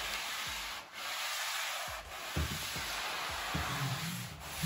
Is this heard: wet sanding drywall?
yes